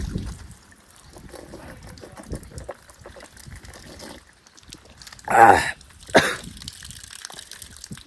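Two short bursts of water being poured for drinking, like a quick pour or splash, rise out of a quiet background with faint room noise around them.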